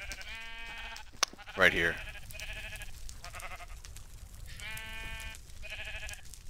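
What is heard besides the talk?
sheep bleating in the video game Minecraft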